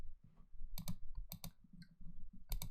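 Mouse clicks on a Finish button in data-integration software come as a handful of sharp, close clicks in uneven pairs over a quiet background.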